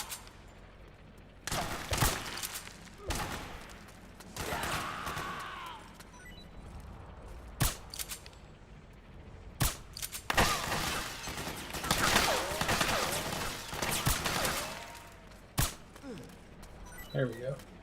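Sniper rifle shots ring out in Metal Gear Solid 4, a handful of sharp cracks spread irregularly through the stretch alongside bursts of other gunfire and clattering game effects, with a voice talking at times.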